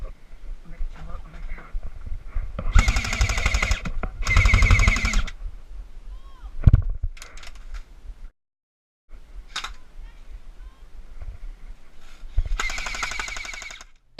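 Airsoft guns firing in an outdoor skirmish, with bursts of rapid popping shots at the start and again near the end, and players talking between the volleys.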